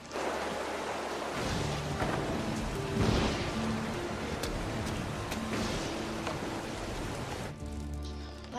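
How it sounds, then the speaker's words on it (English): Rain falling steadily outside, a faint, even hiss of drops with a few louder patters, continuous throughout and heard alone at low level. "It's raining outside."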